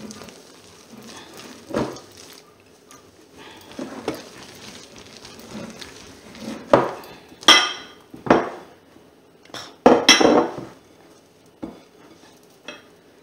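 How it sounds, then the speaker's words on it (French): A utensil folds beaten egg whites into mascarpone in a bowl for speculoos tiramisu. Scraping strokes against the bowl come in an uneven rhythm, growing louder and sharper toward the end, with no talking. "On va les mélanger doucement, délicatement avec le mascarpone."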